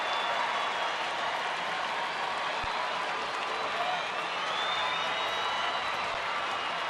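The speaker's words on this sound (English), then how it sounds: "the Ranger faithful trying to get a clap going to support Jason Frazier" Texas Rangers fans in a ballpark crowd clap in support of pitcher Jason Frazier, a distant, steady wash of crowd noise and clapping under a broadcaster's voice.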